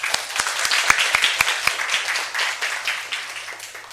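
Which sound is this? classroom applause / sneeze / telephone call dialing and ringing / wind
classroom applause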